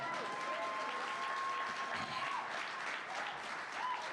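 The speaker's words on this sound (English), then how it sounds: "Can I get an applause on that?" Quiet, fairly distant crowd applause at a hockey league expansion announcement event, steady throughout with a faint tonal whine and murmur beneath.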